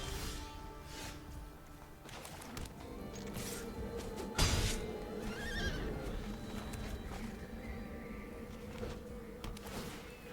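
Horse neigh from the MTG Arena video game, a single loud whinny burst midway over a dense layer of game music and effects, with faint buzzing around it.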